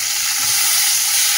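Chopped tomato hitting onion and garlic fried until reddish in a pan, giving a loud, close, continuous sizzle with no talking.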